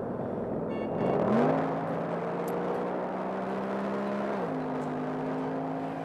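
A car engine with over 400 horsepower hums steadily, swells into a brief rev, then settles, its pitch dropping and holding at a lower drone.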